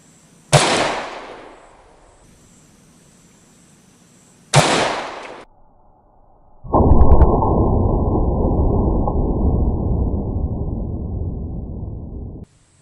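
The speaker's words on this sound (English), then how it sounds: "We're going to shoot 2 straight into that bare gel block and see how they penetrate" Two loud 10mm Atomic pistol rounds are fired into a bare ballistic gel block, spaced about four seconds apart, each a sharp close blast with a short decay, followed by a steady broadband rushing noise.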